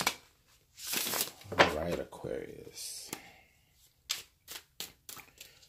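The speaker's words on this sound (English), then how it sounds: "We'll get one last shuffle and then let's get into it." Tarot cards being shuffled for an astrology reading: a soft riffle and several quick, close card snaps and taps, with a person speaking briefly partway through.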